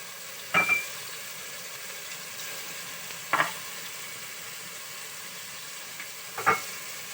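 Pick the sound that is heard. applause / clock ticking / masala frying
masala frying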